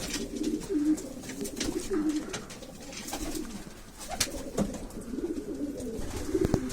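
Pigeons in a backyard coop coo repeatedly in soft, rolling low calls, several birds overlapping, with light rustling and clicks around them.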